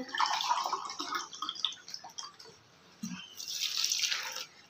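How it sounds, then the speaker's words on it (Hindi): Water from two glasses poured into a pot of chana dal and chicken for shami kebabs, a close splashing pour that pauses briefly, then resumes with a bright rushing stream. "मैं डाल रही हूँ दो गिलास पानी के"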